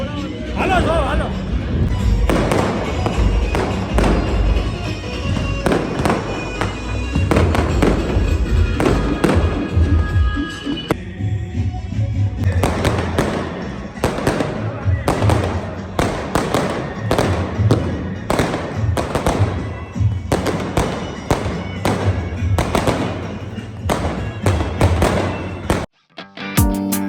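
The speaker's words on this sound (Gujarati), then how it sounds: "ફટાકડા ચારે બાજુ" Firecrackers and fireworks burst again and again at a Ram Mandir celebration in a residential society, a dense run of sharp cracks and booming thumps over crowd babble and voices, briefly cutting out near the end.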